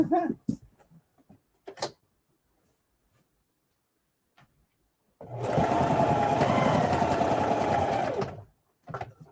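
Sewing machine stitching a lunch tote bag, a steady whirring run of about three seconds, with soft handling clicks and brief speech before and after.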